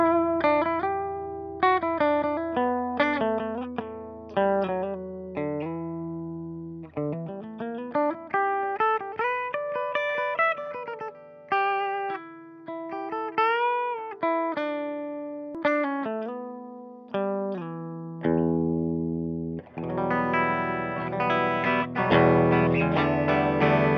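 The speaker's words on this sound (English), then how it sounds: "let's go ahead and hear the Rocker 30 on what I have dialed in as my preferred dirty channel" An Orange Rocker 30 guitar amp on its dirty channel plays a loud, distorted electric guitar riff, with sustained chords and picked notes moving through rising and falling phrases, building to heavier chords near the end.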